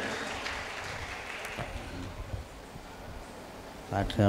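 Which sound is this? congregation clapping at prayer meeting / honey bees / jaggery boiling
congregation clapping at prayer meeting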